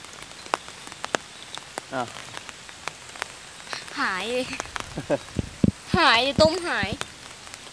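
Rain falls outdoors beside an overflow weir where fish traps are being checked, a steady crackling patter of drops close by while people talk over it.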